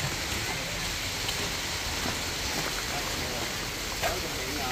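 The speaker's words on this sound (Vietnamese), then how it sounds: "Mưa là phải ngưng đúng không?" Steady rain pours during construction of a new house, a dense broadband hiss that holds constant and fairly loud throughout, with a few faint knocks and no clear voices.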